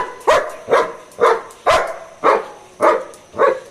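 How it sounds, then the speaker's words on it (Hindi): A dog barks repeatedly in a steady rhythm, six loud, close barks roughly half a second apart with no other sound between them. "सिम्बा बस भौंक।"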